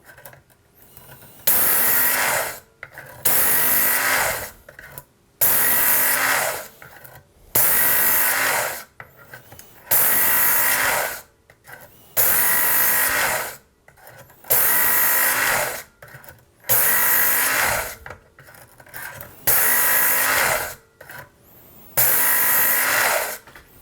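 A Work Sharp Knife & Tool Sharpener's red abrasive belt grinds a steel knife blade in about ten loud, even passes, each a second or two long and separated by short pauses.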